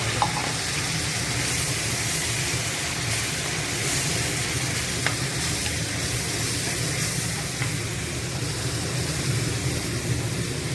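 Ground onion paste frying in a pan with cumin and mustard seeds, a steady, even sizzle with faint hiss that holds throughout, close and unbroken, with no talking.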